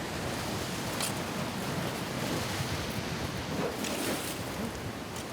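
Strong sea waves break in a continuous roar on a rocky shore, with some louder surges and wind noise over the steady wash.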